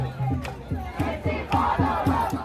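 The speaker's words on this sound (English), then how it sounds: "So what they're chanting there is intifada, revolution, intifada." A protest crowd at a political rally chanting in unison, loud rhythmic repeated shouts in a steady beat of several syllables, many voices together.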